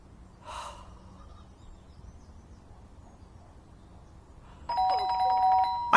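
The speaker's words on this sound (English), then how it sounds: "The doorbell went again, but it hurt too much to move." A doorbell chimes in the video game Fragments of Him. It rings a clear, loud two-tone chime near the end, after a quiet stretch with a soft gasp or breath near the start.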